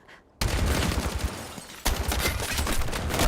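Rapid gunfire in a shooter video game breaks out after a brief quiet moment, with dense bursts of shots that keep going, pause briefly and then start again even louder. Nobody talks over the shooting.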